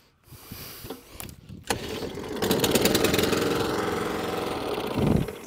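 A Suffolk Punch Atco cylinder mower engine is pulled over a few times with sputtering attempts, then catches into a rough, rapid, uneven running putter before dying away at the end.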